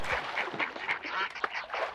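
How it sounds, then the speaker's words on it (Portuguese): Ducks quack repeatedly in the video game Hunt: Showdown, a rapid run of nasal calls from a small group that sounds fairly close and clear, with no talk over them. "Olha patos!"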